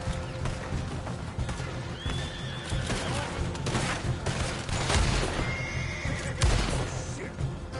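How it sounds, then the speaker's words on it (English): Horses neigh and whinny loudly in a Red Dead Redemption 2 scene as they bolt, with hoof clatter, gunfire and a voice under the chaos. "Now those horses are bolted."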